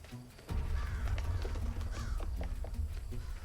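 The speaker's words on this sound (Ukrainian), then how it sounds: "Де ворони літають?" Crows caw repeatedly in the video game Hello Neighbor 2, over a steady low rumble and soft thumping footsteps, the calls fairly close and overlapping.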